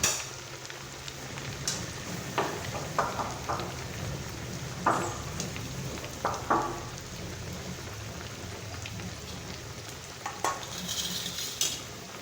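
Paneer cubes roasting in a pan while being turned, with a soft steady sizzle and scattered scraping clicks from a utensil, no voices.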